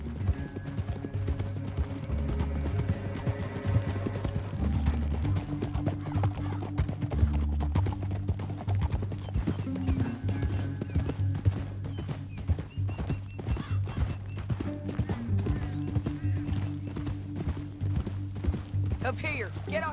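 Steady clip-clop of horse hooves trotting continuously in Red Dead Redemption 2, with an occasional whinny and faint voices in the background.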